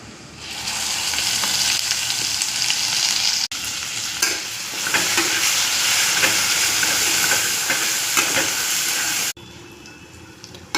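Masala paste fries loudly in a pan over mustard seeds, curry leaves and homemade spice mix for a matki bhaji curry: a dense, continuous sizzle with stirring scrapes that cuts off abruptly near the end.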